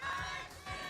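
A large crowd at an esports grand final for MPL Singapore Season 7 playoffs, shouting and cheering together in a short loud roar with two rhythmic chanted swells.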